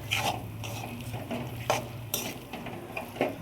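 Peanut chikki mixture with coriander stirred in a pot just off the heat, giving repeated soft scraping and clinking of a spoon against metal, steady and close, with no talk.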